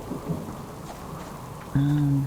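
A thunderstorm with rain in the survival game Subsistence: a low rumbling wash of rain and thunder, then a sudden louder, steady tonal sound near the end that holds until the clip stops.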